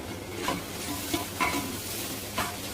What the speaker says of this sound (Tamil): அடி பிடிக்காம இருக்குன்னா கிண்டிக்கிட்டே இருங்க.